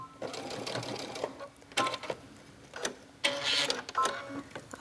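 A domestic sewing machine stitches down a knit fabric skirt in several short bursts of rapid mechanical chatter, separated by brief pauses, close and moderately loud.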